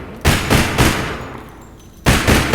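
Burst fire from an SR-15 rifle in APB Reloaded: two close quick bursts of several loud, punchy shots, a short pause, then another burst starting, all near and dominant.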